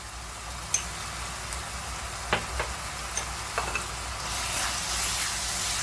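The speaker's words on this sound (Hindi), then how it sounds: "अब इसकी कच्ची स्मेल जाने तक अच्छे से भूनेंगे" Ground spices such as coriander and cumin powder roast in a pan for green masala keema, giving a soft steady sizzle broken by a few sharp scraping clicks from stirring, with the frying growing louder toward the end.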